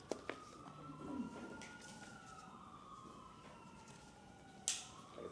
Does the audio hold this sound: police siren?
yes